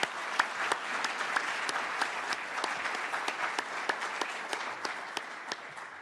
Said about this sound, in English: I think we should give a round of applause to our great presenters